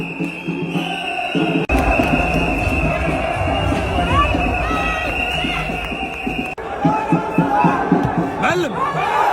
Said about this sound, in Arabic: الجمهور هذا